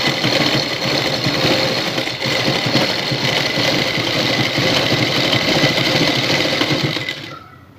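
A sewing machine stitches over lace on a shalwar hem with parachute thread, running as a continuous close whirring rattle that stops abruptly at the end.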